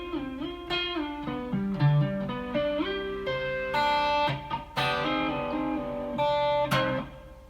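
An electric guitar plays a section of a riff alone, a clean, fairly quiet run of plucked single notes and ringing chords with no talking.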